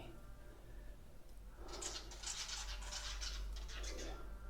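Pigeons coo in an abandoned hospital, with soft, low, rounded calls under a steady hiss of room noise and faint scratchy rustles partway through.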